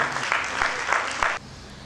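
A crowd at a poetry recitation gives a short round of applause, clapping in a few loud rhythmic bursts before cutting off abruptly into quieter room tone.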